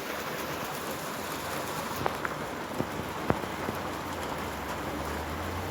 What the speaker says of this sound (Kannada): ಮಳೆ ನೋಡ್ರಿ ಎಷ್ಟು ಜೋರು ಆಗಾಕತ್ತು ನೋಡಿ. ಬರಾಕತ್ತೈತ್ರಿ ಮಳೆ